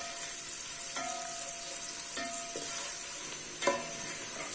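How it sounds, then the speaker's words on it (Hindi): Onions sizzle and crackle steadily in a hot pan while frying to light brown, with a few soft scrapes of stirring at intervals, fairly quiet and close. "अब हम इसको फ्राई कर लेंगे लाइट ब्राउन सा कलर होने तक।"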